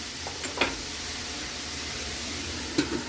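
A pot of Bisaya-style bas-oy is stirred, giving a continuous soft sizzling hiss with a few light clinks of a utensil against the pot.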